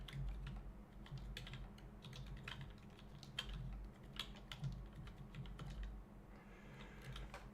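Steady clicking of computer keyboard keys, fairly quiet and close, with irregular bursts of keystrokes over a low background hum; no voices.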